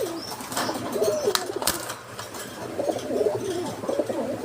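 Giribaj, rajgolla and racer pigeons cooing in a loft, soft low warbling coos repeating at a steady pace against a faint background hum, with a brief wing flutter or scuffle midway.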